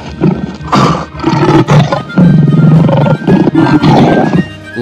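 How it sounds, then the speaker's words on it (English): A toy lion gives repeated loud roars and growls, several rough bursts in a row over about five seconds, close and alone with no talking. "Lion."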